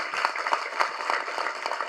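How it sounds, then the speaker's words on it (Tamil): An audience at a press meet for the film Pogumidam Vegu Thooramillai claps in a steady, moderately loud patter of many hands that continues throughout. "கண்டிப்பாக அதற்கு ஒரு பெரிய கைத்தட்டல்"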